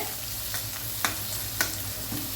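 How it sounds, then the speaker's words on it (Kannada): Onions fry in about five tablespoons of hot cooking oil over high flame for a Hyderabadi red chicken, a steady close sizzle with a few sharp stirring clacks of a spoon against the pan. "ಆನಿಯನ್, ಅದೇ ಥರ ಬ್ರೌನ್ ಆಗೋವರೆಗೆ ಇದನ್ನು ಫ್ರೈ ಮಾಡಬೇಕು"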